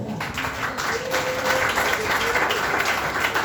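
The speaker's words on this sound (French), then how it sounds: "Est-ce que vous voulez applaudir cette parole?" Audience applause following a call to applaud during a French-language church sermon on family, a broad, steady wash of clapping that fills the room evenly for the whole stretch with faint voices underneath.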